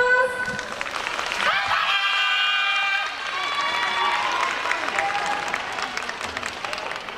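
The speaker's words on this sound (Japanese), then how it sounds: "大きな拍手をお願いします。" An audience at a festival show in Osaka breaks into loud, sustained applause, opening over a tonal musical sting, then carrying on as a thick, even wash of clapping with some cheering mixed in.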